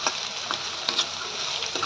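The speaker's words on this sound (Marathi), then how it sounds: "आता कांदा चांगला परतून घेऊया" Onions for pav bhaji fry in hot oil in a pan with a steady, even sizzle, with a few soft clicks of stirring now and then.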